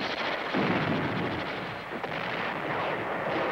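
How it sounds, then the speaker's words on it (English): Dense, rumbling barrage of wartime artillery, rockets and mortars pounding the Khe Sanh garrison in Vietnam, a continuous muffled roar with no distinct individual blasts, heard at moderate loudness as if from an archival film soundtrack. "The incoming artillery fire, rockets, and mortars of the enemy continue to pound the garrison."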